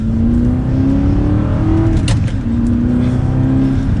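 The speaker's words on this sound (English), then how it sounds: "as we get the Audi R8 out on the road now" An Audi R8 with a 6-speed manual pulls out onto the road, its engine loud and close from inside, with a steady drone, a rising rev, a brief shift dip, then climbing again.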